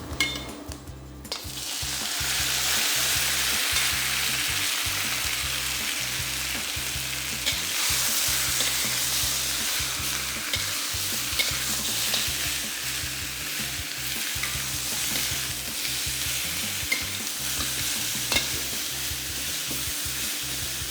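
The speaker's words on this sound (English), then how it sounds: "Fry them till they are a little charred on the outside." Spare ribs frying in a hot pan after ginger has been stir-fried, a loud steady sizzle that carries all the way through, broken by occasional clinks and scrapes of stirring.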